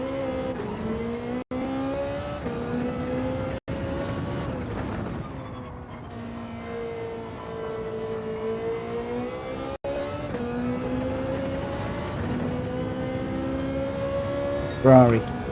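Ferrari race car engine in a racing video game, a sustained high revving drone rising and dropping through gear changes, steady and fairly close, with a quick squeal near the end.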